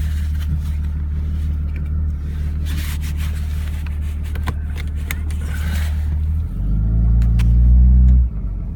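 A 2005 Cummins diesel truck engine idles with a deep, steady rumble close by, then revs up louder for about two seconds near the end before dropping back; no one speaks.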